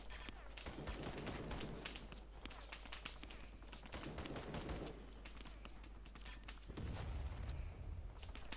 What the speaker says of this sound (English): Yeah, it's definitely mortars.